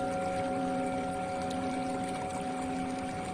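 Steady, continuous flowing water like a fountain or small waterfall, an even wash of splashing and trickling that holds at a constant moderate level throughout, with no voices.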